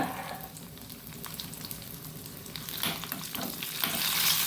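Garlic, mustard seeds and curry leaves frying in hot oil for a Mangalorean-style sambar, giving a steady close sizzle and crackle with sharper popping bursts toward the end, no voices.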